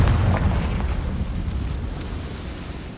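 A Confringo blasting spell bursts in Hogwarts Legacy, a loud booming explosion at the start that rolls into a long, fading rumble with a few crackling pops trailing off.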